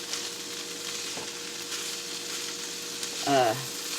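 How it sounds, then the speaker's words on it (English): Spinach sautéing in a hot pan for a frittata, giving a steady close sizzle throughout with a brief stirring scrape near the end. "I'm going to go ahead and add my spinach"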